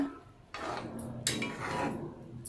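Green toor dal and potato curry stirred in a pan, with a few scraping, clinking spoon strokes against the metal that come in short bursts close by, with no talking.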